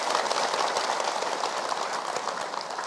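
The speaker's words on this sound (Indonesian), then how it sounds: "Boleh tepuk tangan." A studio audience applauds steadily at a televised religious talk show, a dense, even wash of clapping that stays loud and unbroken for about three seconds.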